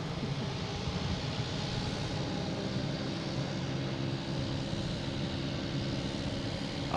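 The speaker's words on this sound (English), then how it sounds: "Oh, that small plane's going too." A small airplane takes off at Boston Logan International Airport, its engine a steady, broad roar heard at a distance, continuous and unbroken throughout.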